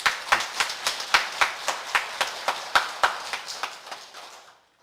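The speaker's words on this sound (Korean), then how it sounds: "큰 격려의 박수 한번 쳐주시죠" A church congregation claps in a steady burst of applause that gradually fades out to silence.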